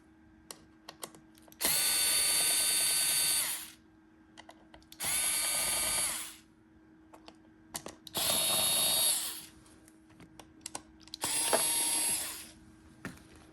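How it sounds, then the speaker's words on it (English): A powered screwdriver backs screws out of a 3D printer cover in four bursts of loud whirring, each about two seconds long, separated by quiet gaps with small clicks and handling sounds. "So if I remove these screws here, that should release that board."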